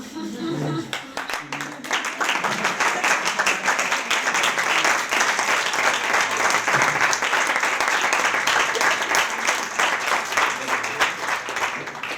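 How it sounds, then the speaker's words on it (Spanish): Sustained audience applause after a talk and discussion session, dense steady clapping that fills the room for about twelve seconds, loud and continuous with no speech over it. "se ha lanzado el aplauso"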